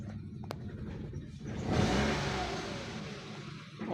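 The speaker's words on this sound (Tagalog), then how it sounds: "At ngayon ay i-rev natin" A car engine that stalls and idles roughly after a new battery is revved, its note rising to a louder surge midway before settling, heard close with no talking.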